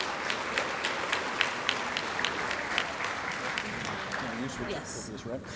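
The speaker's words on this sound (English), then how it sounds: "let's give all our technology winners a round of applause" Audience applause for technology winners at a junior science fair awards ceremony, a steady wash of many hands clapping with a few louder near claps, a voice briefly heard near the end.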